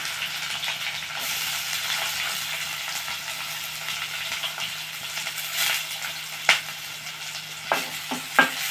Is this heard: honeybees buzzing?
no